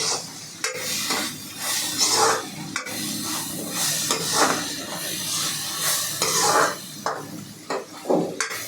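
Momo stuffing with turmeric and garam masala is stirred and fried in a pan, a spoon scraping and rubbing against the metal in repeated strokes over a steady low sizzle.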